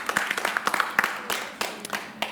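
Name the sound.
audience applause for an award winner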